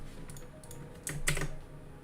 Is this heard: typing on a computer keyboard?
yes